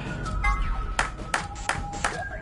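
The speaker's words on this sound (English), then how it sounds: "You clapped your hands, right?" A few sharp hand claps ring out at irregular intervals over a steady electronic background with faint tonal pings, in the video game Zero Escape: Virtue's Last Reward.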